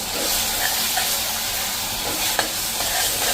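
Coarsely crushed garlic, green chilli and ginger tossed into a hot pan for a village-style garlic chutney, giving a steady close sizzle with scraping stir strokes and a sharp clink near the end.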